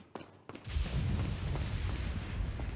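A flash grenade detonates in Resident Evil 4, a sharp thump followed by a sustained loud booming rumble that fills the rest of the moment, with a couple of short knocks just before.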